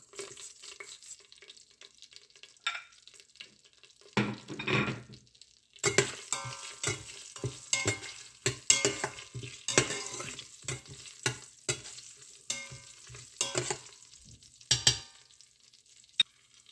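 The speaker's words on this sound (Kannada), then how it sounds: "ಸ್ವಲ್ಪ ಫ್ರೈ ಆಗೋದು." Cumin seeds and green chillies frying in hot oil in a pan for jeera rice, with steady sizzling and crackling broken by bursts of stirring and scraping against the pan, close and clear with no talk.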